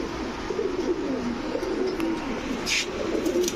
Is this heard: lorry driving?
no